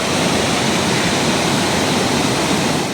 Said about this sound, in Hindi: ये देखो जो हमारे रास्ते में झरना था आजकल इसके भी क्या हाल है।